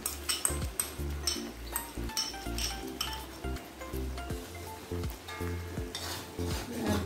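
Fish fries in a pan with sweet soy sauce, a steady sizzle broken by rhythmic scraping and clinking as a utensil stirs against the metal, close up with no talking.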